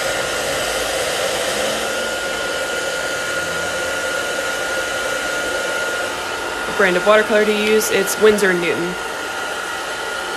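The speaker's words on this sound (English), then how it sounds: "I'm gonna use my hair dryer really quick to" A hair dryer blows with a steady, loud whoosh throughout, and a voice speaks briefly over it near the end.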